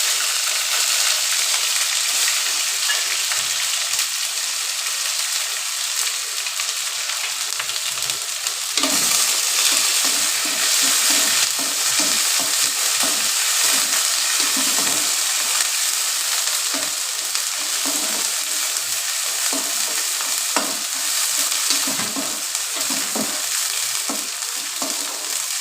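Onions sizzle steadily in a hot pan with ginger-garlic paste and cumin while being stirred, close and continuous with scraping stir sounds throughout and no talk.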